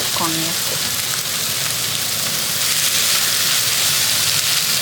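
Konjac stir-frying in a hot pan for a Japanese nikujaga dish, giving a steady, loud sizzle throughout with a brief tonal sound near the start.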